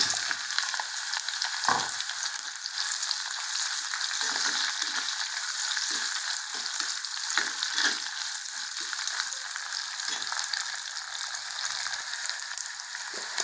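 Onions sauté in a pan with garlic for a peanut and turkey berry tamarind curry, a steady bright sizzle lasting throughout, close and fairly loud, with occasional soft scrapes of stirring.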